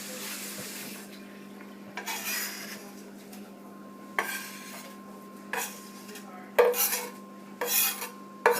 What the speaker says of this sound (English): let me mix that up